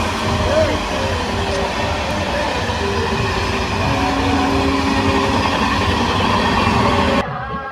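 A train rumbles past close to a farmhouse in the morning, with a loud, continuous roar and rhythmic wheel clatter that cuts off abruptly near the end, while people talk over it.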